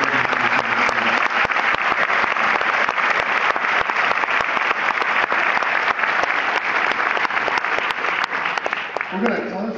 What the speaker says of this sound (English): I'd love for you to give them one more round of applause.